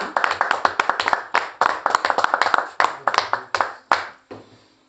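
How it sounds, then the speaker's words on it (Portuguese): Church congregation at a small worship gathering clapping in rhythm, a quick run of close, sharp claps in irregular bursts that ends in a few last isolated claps. "Você pode dar um aplauso para Jesus aí,"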